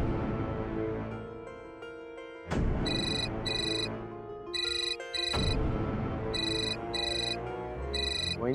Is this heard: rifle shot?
no